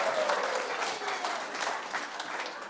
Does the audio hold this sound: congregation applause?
yes